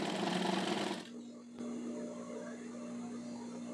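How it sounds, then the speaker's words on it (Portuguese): A noisy sewing machine stitches fabric strips for a patchwork rug in one loud, close burst of about a second, then stops, leaving a faint steady hum. "eu não posso conversar costurando, porque a máquina é barulhenta"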